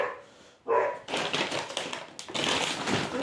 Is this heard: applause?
no